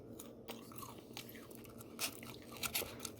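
Crispy breaded pub-style chicken wings are bitten and chewed close to the mic, with quiet crunching and a few louder crisp bites over a faint background hum.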